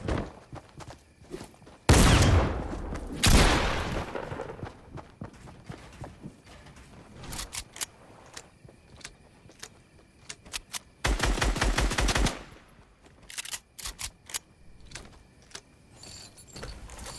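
Fortnite gunfire comes in loud, rapid automatic bursts, with the longest volleys early and again later, separated by single sharp shots and quieter stretches.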